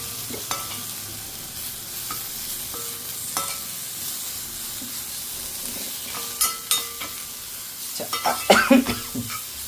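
A spoon stirs broad bean curry with dried coconut powder in a hot pan. Soft sizzling runs under scattered scraping clicks, which grow busier and louder toward the end.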